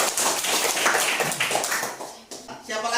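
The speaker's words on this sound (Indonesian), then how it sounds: "Beri tepuk tangan." Classroom of students clapping for a classmate's answer, brisk close claps that fade out partway, followed by a voice speaking.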